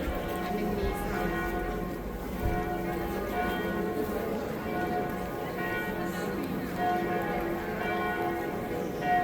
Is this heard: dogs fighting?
no